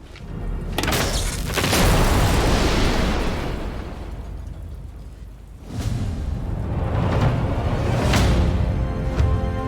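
A generator explodes in the video game Sniper Elite 5, giving a loud booming blast that rumbles and decays, then a second heavy explosion follows a few seconds later. No talking.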